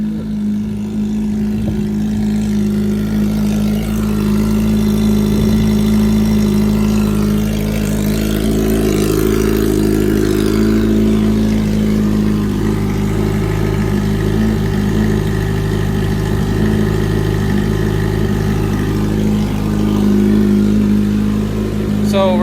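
A 2021 Kawasaki Ninja 1000SX idles on a cold start, its exhaust giving a loud, steady, low burbling hum that stays even throughout with slight shifts in pitch.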